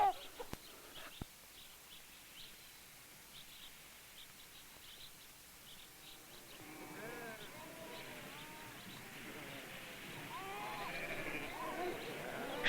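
Sheep bleat across open Navajo grazing land, the calls starting faint and sparse, then growing into several overlapping bleats from a flock in the second half, with steady outdoor ambience underneath.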